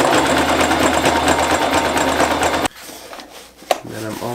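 A sewing machine runs steadily and loudly for several seconds, stitching webbing onto a sailcloth bag during a repair, then stops abruptly and leaves quieter handling noises and a brief voice.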